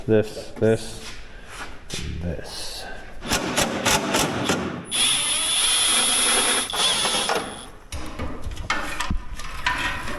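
Work on a Suzuki Samurai: a ratchet clicks in quick bursts and metal rattles while a screw is backed out up close, with a voice heard at times.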